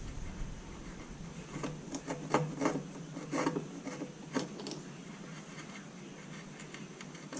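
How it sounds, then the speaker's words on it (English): A fine gouge cutting short strokes into wood to carve a hair or fur texture makes faint, quick scraping ticks in irregular bursts, each one brief and close. "as I start going deeper with the fine gouge"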